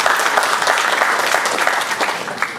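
A crowd applauds steadily at a wayang cupak craft workshop during the Bali Arts Festival, a dense, continuous wash of clapping that stays loud and even throughout with no speech.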